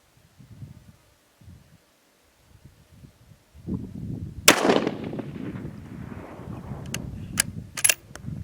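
A Stevens 200 bolt-action rifle fitted with a Savage trigger and Vortex Viper scope fires a single sharp, loud shot outdoors, followed by a rumbling echo, with quiet rustling and handling noises before and after.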